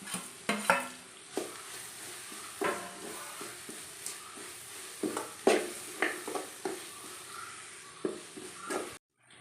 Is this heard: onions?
yes